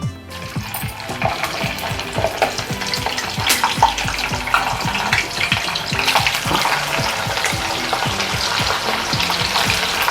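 Ivy gourd (dondakaya) pieces frying in spluttering oil: dense, loud crackling and popping sizzle close up throughout, with rapid rhythmic bubbling bursts and occasional stirring, no voices.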